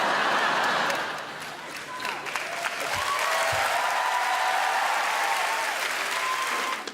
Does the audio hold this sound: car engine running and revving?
no